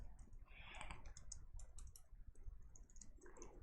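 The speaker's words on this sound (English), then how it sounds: "I'm just gonna type here the UART" Computer keyboard typing while entering UART interrupt code for a PIC18 microcontroller: a quiet, steady run of rapid key clicks with brief pauses, close to the microphone and alone.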